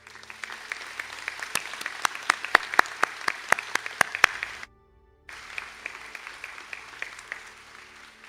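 Audience applause at a college graduation conferring ceremony in Sligo, steady clapping from a large hall that cuts out briefly in the middle and resumes.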